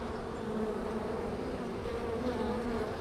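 Honey bees buzzing steadily around hive colonies in early spring, a dense continuous hum filling the whole stretch without any voices.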